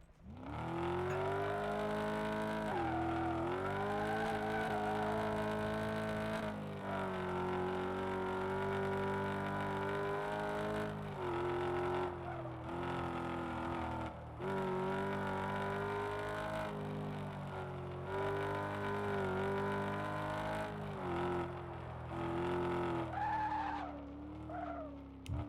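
A car in Car Mechanic Simulator 2026 revs steadily around a test track, engine tone rising and falling through gear changes, with tires squealing and skidding in several long stretches close up.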